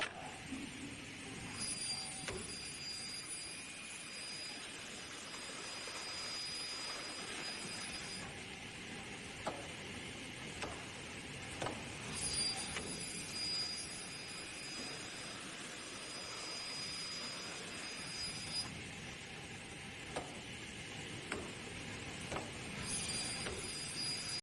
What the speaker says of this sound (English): The equipment will then automatically complete all cutting tasks in sequence.